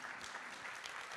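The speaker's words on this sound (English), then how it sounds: "Let's give her another warm round of applause" A luncheon audience at APEC 2015 claps in a dense, even burst of applause, a brief steady wash of many hands with no voices over it.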